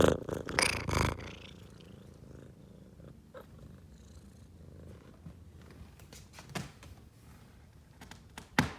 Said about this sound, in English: you'll hear the loud purr